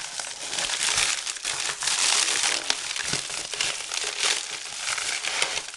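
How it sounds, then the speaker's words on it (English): Packaging tape and plastic wrap being cut and torn open on a well-taped parcel of TOUCHNEW markers, with steady crinkling and crushing close up, no talk. "I'm gonna cut this open off camera"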